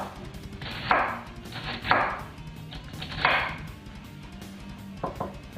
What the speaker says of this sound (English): So I'm gonna kind of shred the cabbage first, and then we're gonna mince it.